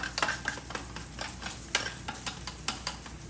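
A steak sears in a hot pan, a fairly quiet, steady sizzle broken by repeated scraping and stirring clicks, with no talk.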